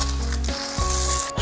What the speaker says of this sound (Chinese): 先来花半分钟煎一个荷包蛋